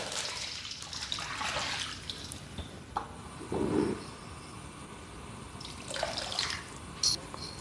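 Hot water is poured onto a Bima Blacksteel griddle to clean it, giving a faint, uneven hiss and splash with a few louder gushes and small clinks.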